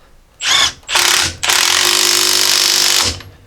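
Power tool tightening the coil spring on a 2016-2021 Jeep Grand Cherokee strut assembly: two short loud whirring bursts, then a sustained high-pitched whine lasting about a second and a half, close and alone.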